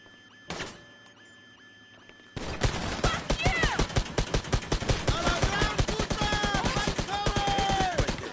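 Rapid automatic gunfire in Grand Theft Auto Online, a dense sustained burst of loud repeated shots after a quiet start with one brief earlier bang.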